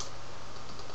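Typing on a computer keyboard comes through as a dense, steady patter of fast key clicks, close and continuous over a second, with no voice.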